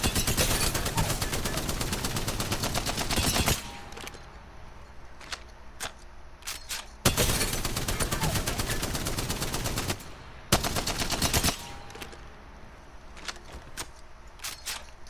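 Spitfire light machine gun in Apex Legends fired through a full magazine, loud rapid automatic bursts in several long stretches separated by brief pauses, with shots and clatter between bursts.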